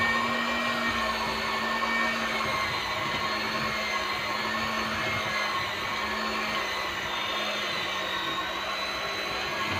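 A steady, loud electric mixer whirs without pause mixing chocolate cake batter, its motor hum unchanging throughout, with no talking.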